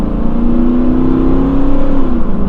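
A Ford Expedition's 5.4-liter Triton V8, well past 200,000 miles, accelerates with a loud, throaty, steady engine drone that rises slightly in pitch, heard close and alone.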